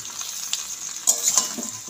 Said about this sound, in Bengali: এবার আমি এই তেলের মধ্যে কুলগুলো আস্তে আস্তে ঢেলে দেব।